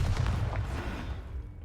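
A Confringo blast spell goes off in the Hogwarts Legacy video game, a loud, heavy explosive boom with a rumbling low-end tail that fades over a second or so.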